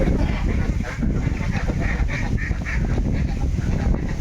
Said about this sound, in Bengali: এই যে চিনা হাঁসগুলো